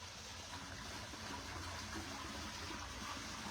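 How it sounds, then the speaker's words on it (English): Water from a backyard pool waterfall runs in a steady, soft rush and splash, faint and continuous at a Stonecrest home in Summerfield, Florida, with no voices. "nice pool that has amazing waterfall in it."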